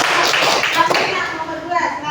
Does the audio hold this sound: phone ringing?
no